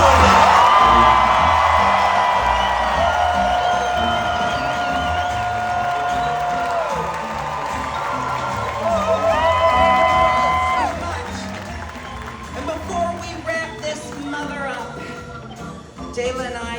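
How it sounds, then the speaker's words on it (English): An audience at a Christmas-season Jinkx and DeLa show in Seattle cheers and whoops, with a sustained roar of crowd noise and high voices that rise and swell midway before breaking into scattered shouts and claps. "Please give a huge round of applause to Jinkx"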